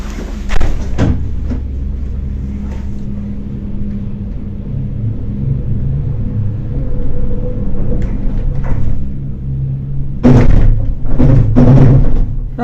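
Cable car descending through misty mountains near Skopje, a continuous low rumble of the cabin with sharp clunks and rattles at the start and again near the end as it passes a support.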